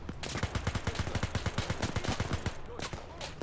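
Rapid machine-gun fire in the World War II shooter WW2 Spearhead 1944 for Arma 3, a loud, fast rhythmic burst of close shots lasting a few seconds, then trailing off into scattered reports.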